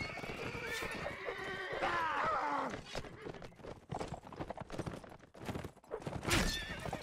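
Horses whinny loudly and repeatedly over a clatter of hooves in a Mount & Blade: Warband battle, with shrill neighs in the first half and another near the end amid scattered impacts and noise.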